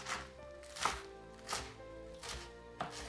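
A knife chops through lettuce for a salad in a slow, even rhythm of four crisp cuts, each a short crunchy thud, quiet and close with no talking.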